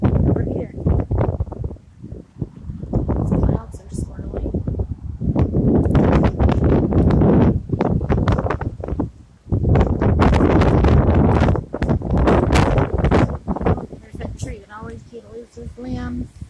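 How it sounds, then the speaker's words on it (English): Gusty wind ahead of a storm in Fort Worth, Texas, buffeting the microphone in loud rumbling bursts while a person talks over it. "See the wind moving in."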